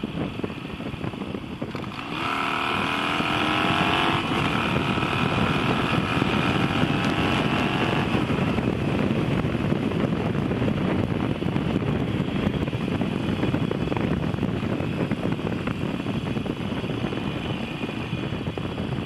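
A motorcycle accelerates hard on a California road, its engine note climbing steadily for several seconds before heavy wind roar buffets the microphone at high speed, loud and continuous with no talking.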